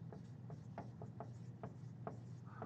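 Chalk or marker strokes on a board in a biology lecture on glycolysis, a series of short, faint scratching taps in an irregular rhythm over a quiet room hum.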